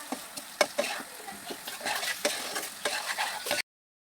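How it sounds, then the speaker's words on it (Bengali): Potatoes with turmeric, salt and chili powder get stirred in a pan, a soft sizzle under repeated scraping and tapping of the spoon, close and moderately quiet, then the sound cuts off abruptly. "দেওয়ার পরে এটাকে ভালো করে আবার কিছুক্ষণ নাড়াচাড়া করে নিব।"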